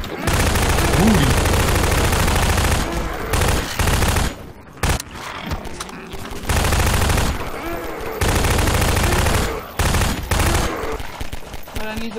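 Dense, loud heavy-weapon gunfire in Garry's Mod rattles in long sustained bursts broken by short pauses, close and overpowering, with voices faintly underneath.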